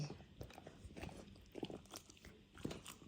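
A golden retriever crunches and bites on a large treat at close range, with repeated uneven chewing crunches and wet mouth sounds, fairly quiet, no talk.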